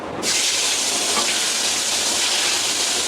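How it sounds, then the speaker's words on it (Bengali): Teasel gourds dropped into hot oil in a pan, a sudden loud sizzle that starts at once and holds as a steady dense hiss to the end. "যে কাঁকরোলগুলি এখন আমি দিয়ে দিব তেলে"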